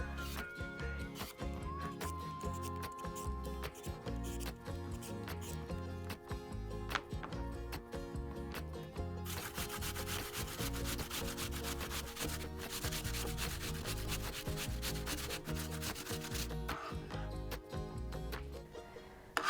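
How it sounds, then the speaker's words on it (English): An apple is grated by hand against a grater, making a run of rapid rhythmic rasping scrapes, close and fairly quiet, steady throughout with no talk. "Then peel and grate the apple,"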